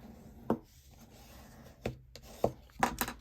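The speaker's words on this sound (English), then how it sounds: "So I'm going to just burnish it this way." Scored paper card fold being burnished flat by hand, heard as a few short, dry rubbing scrapes spaced irregularly, close by and fairly quiet with no talking.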